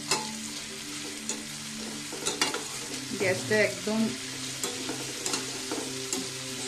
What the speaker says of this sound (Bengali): বাদামটাও হালকা ভেজে নিতে হবে